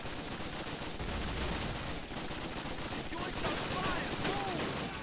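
Bursts of gunfire from the World War II shooter Call of Duty: United Offensive, dense rapid shots layered over game noise, fairly faint, with voices talking over it.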